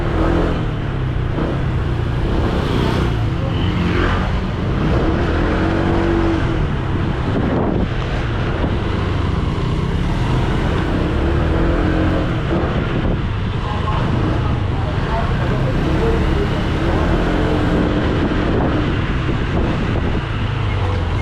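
Road traffic in Ortigas heard from a moving motorcycle, a constant rumble of engines mixed with heavy wind buffeting on the microphone, loud and unbroken, with a voice speaking at times underneath.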